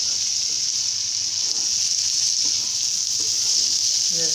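Lentils dropped into frying ghee and spice masala for restaurant-style daal maash give off a steady, loud, close sizzle with faint stirring clicks throughout.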